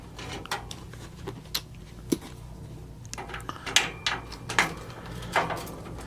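Ratchet wrench loosening tight 1/4-inch bolts holding the tuning capacitor on a Philco Predicta Siesta television chassis, giving scattered short clicks and metallic clinks at close range, fairly quiet and irregular.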